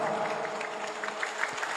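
Audience applause for the Sirnarasa santri students at a manaqib religious gathering, a steady wash of clapping from a crowd filling the short stretch, with a few louder claps standing out near the end.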